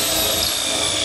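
A power drill bores out a tight hole in a PT-20 model airplane fuselage part, a loud, steady, high-pitched whine with grinding texture, very close and continuous.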